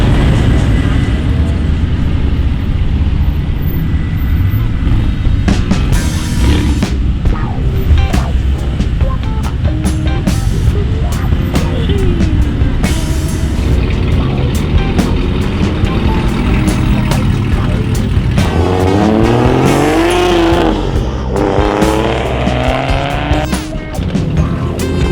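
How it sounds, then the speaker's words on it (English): Modified cars leave a car show one after another, loud revving engines and exhaust rumble passing close by, with rising and falling engine pitch as vehicles accelerate away. "Filming some of the cars leaving here right now."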